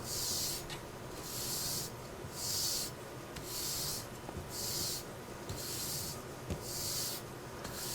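A straight razor is stroked across felt sprayed with diamond compound at the end of a honing session. Soft, even hissing swishes come in a slow alternating rhythm, about seven strokes, close and quiet, with no talk.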